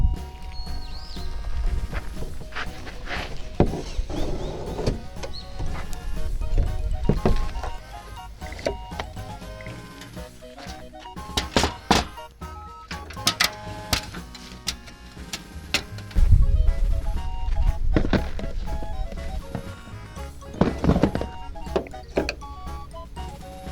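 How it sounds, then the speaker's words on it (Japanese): In the bed of a tiny Daihatsu Midget II kei truck, a wooden board is unscrewed and flipped over for storage, giving close, irregular knocks, clicks and wooden thumps with scraping. "ここのネジを外して、この板をひっくり返して収納します。"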